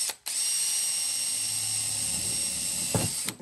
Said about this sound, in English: Just using a 1/8 drill bit because my fasteners, my rivets are 1/8.